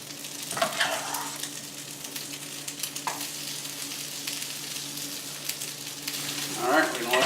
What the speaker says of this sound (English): just put a spoonful, kind of flatten them out into the pan.